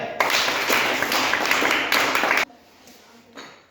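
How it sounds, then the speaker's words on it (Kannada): A group at a quiz-style event claps in a quick, dense burst that is loud and close for about two seconds. The clapping cuts off sharply, leaving quiet room noise and a faint tap near the end. "ಚಪ್ಪಾಳೆ"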